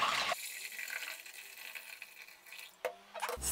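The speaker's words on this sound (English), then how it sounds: "Boil a full kettle of water and then pour it into a saucepan or something like it that can hold very hot water." Hot water from a freshly boiled kettle pours into a saucepan in a short, close splash that settles into a quieter trickle, with a couple of brief knocks near the end.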